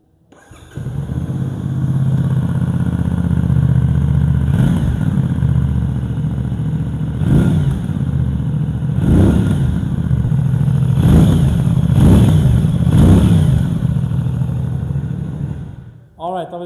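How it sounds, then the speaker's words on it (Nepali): A CFMOTO 450SRS sports bike with a parallel-twin engine idles steadily, then revs in a series of sharp throttle blips, its exhaust rumbling loud and close. "तपाईँलाई म यो बाइकको एकचोटि एक्जस्ट नोट पनि सुनाइदिन्छु"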